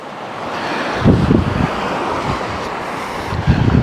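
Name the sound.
river flowing, East Fork of the Walker River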